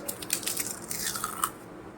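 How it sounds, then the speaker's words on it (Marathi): Crispy homemade sal papad is crunched up close: a quiet run of sharp, brittle cracks and crunches in quick succession over about two seconds, with no talking. "कुरकुरीत असते एकदम"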